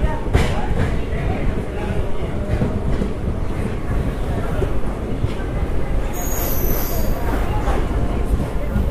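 A Gujarat SF Express train runs through Vadodara Junction, heard from inside a second-class coach: steady loud rolling rumble and wheel noise with faint clatter, and a voice talking over it.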